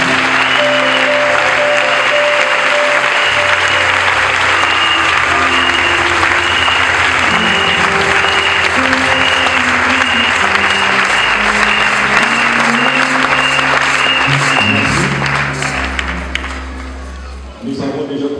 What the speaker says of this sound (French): le pasteur Charles-André Malonga, que j'appelle sous vos acclamations.